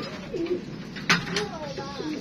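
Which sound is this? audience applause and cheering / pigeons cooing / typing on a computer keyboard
pigeons cooing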